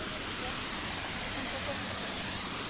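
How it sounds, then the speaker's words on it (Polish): A waterfall near a bike path in the Karkonosze mountains around Karpacz, a constant broad rushing hiss of falling water, steady and fairly loud throughout. "Tutaj jest kolejny wodospad."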